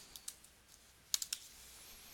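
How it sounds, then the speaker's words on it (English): A few crisp clicks on a computer keyboard, typing a name: two isolated keystrokes early, then a fast cluster of three, close and clear against a quiet room. "type in your name"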